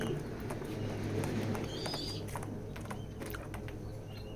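Racing pigeons coo softly in a pigeon loft, low murmuring calls blending into a steady ambient hum with scattered faint clicks and movements.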